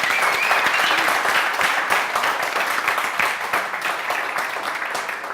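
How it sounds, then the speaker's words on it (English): A large audience breaks into sustained, dense applause at a live branding interview event, steady clapping filling the whole stretch and easing slightly toward the end, with no talk over it. "A big round of applause for everybody."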